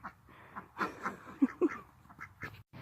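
Pet ducks kept in a pen quack in short, nasal bursts, a few louder calls close by among softer chatter, with a faint voice in the background.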